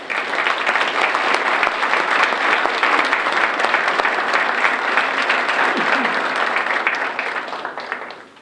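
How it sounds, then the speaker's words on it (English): An audience at an academic recognition ceremony applauds the advisory board members. The clapping is loud and sustained, filling about eight seconds evenly before it fades at the end. "Let's applaud those members who are here this evening."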